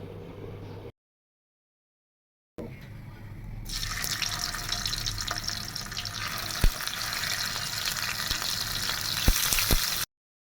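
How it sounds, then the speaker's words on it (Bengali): Small hilsa fish fry in a pan: after a short silent break, a steady broadband sizzle rises and holds to the end, with a few sharp clicks and pops scattered through it. "সব মাছ দেওয়া শেষ এখন মাছগুলোকে আমি ভালোভাবে ভেজে নেব"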